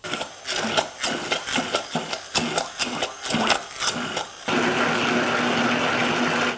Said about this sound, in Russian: Все это я сейчас блендером смешаю